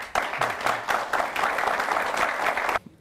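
Studio audience at a Hindi television interview breaking into applause, a dense burst of clapping that runs for nearly three seconds and then cuts off abruptly.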